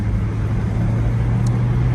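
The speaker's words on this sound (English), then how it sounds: "This is your average morning wake-up traffic." Steady morning rush-hour road traffic, a continuous low rumble of passing cars heard from inside a vehicle, with no gaps and no voices.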